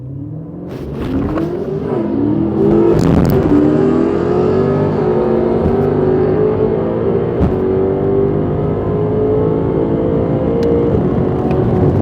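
A 1000hp BMW M5 on a drag racing run, its engine roaring loud and close as it accelerates hard through the gears, the pitch climbing steadily and holding a sustained high-revving drone for the whole stretch.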